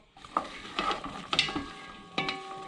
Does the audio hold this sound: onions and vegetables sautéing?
yes